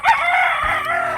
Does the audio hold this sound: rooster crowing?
yes